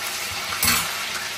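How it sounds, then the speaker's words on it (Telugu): Curry leaves fry with a steady, close sizzle in a pan, and a brief stir or scrape adds a soft knock partway through. "కరివేపాకు వేసుకున్నాం కదండి, నేను ఒకసారి కలుపుకోవాలి"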